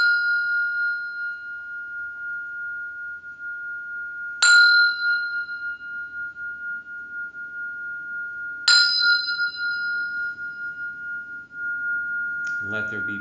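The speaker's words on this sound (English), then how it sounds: "invite everybody to think about that as I ring the bell" A meditation bell rings three times at even intervals, each strike a clear ding followed by a long, pure sustained tone that fades slowly in a quiet room, with a brief soft rustle at the end.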